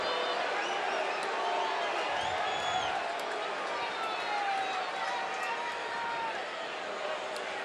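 Baseball stadium crowd at a Padres–Dodgers game roaring for the batter coming up: a dense, steady wall of cheering and whistles fills the whole stretch, sustained and loud, with faint speech under it.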